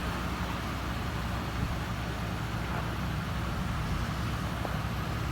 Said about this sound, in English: Motor's a gasoline engine, sounds great